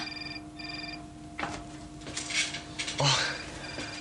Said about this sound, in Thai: เสียงโทรศัพท์มือถือของคุณนะคะ